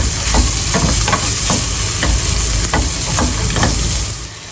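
Zucchini and spices fry in oil with a loud, steady sizzle while a utensil stirs them, scraping in several distinct strokes across the pan.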